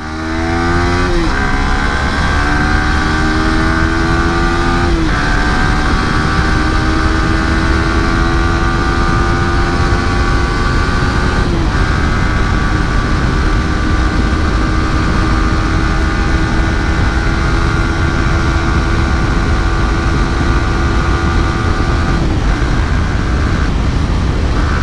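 A KTM Duke 390 motorcycle engine drones loudly and steadily throughout a ride, pitch climbing through several gears with brief dips at each shift.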